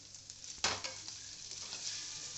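Vegetables sautéing in a pan with red chili powder, a soft steady sizzle with a sharp stirring scrape near the middle and light clinks of a utensil against the pan.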